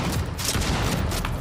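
Dense gunfire from a body-cam horror shooter, Chuxie, with shots crackling loudly and continuously across the whole moment in a rough, overlapping burst.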